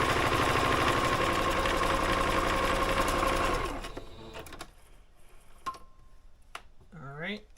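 A sewing machine runs continuously on a shoulder seam of a Know Me 2050 garment, then stops, leaving quiet handling clicks and a brief voice near the end.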